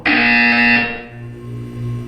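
A loud electronic buzzer sounds in the Portal 2 video game during a test exercise, a single harsh, bright tone lasting under a second before cutting off, leaving a quieter lingering hum with no talking.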